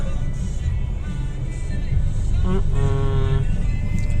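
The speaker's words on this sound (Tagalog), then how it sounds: "Stuck na naman sa traffic." Congested road traffic near a port area, a steady engine rumble with a short run of car horn toots honking close by.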